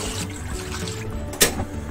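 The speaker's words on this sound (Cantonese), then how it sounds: "今次我哋就加5 lit 嘅水落去，" Water pours from a container onto chicken pieces in a stock pot, a short light trickle and splash with one brief louder gush near the end.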